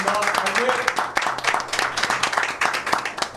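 At a political debate event, an audience claps for party leadership candidates, a short uneven patter of hands heard under a voice talking.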